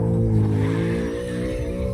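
Car from the movie Cars sliding through a rear-wheel drift in CarX Drift Racing Online, a steady loud engine drone with layered revving harmonics and tire squeal held for the whole two seconds, no talk.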